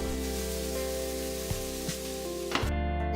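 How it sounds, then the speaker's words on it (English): Onions stir-frying in oil with a pinch of salt for Asian-style stir-fried vegetables and noodles, a steady close sizzle with a few soft stirring knocks and a clatter near the end. "stir fry the onions with a pinch of salt"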